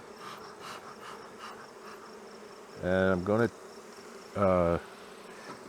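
A dense crowd of honeybees hums steadily around an open nuc hive during a feeding check, a soft continuous buzz that carries under two short bursts of a man's nearby speech.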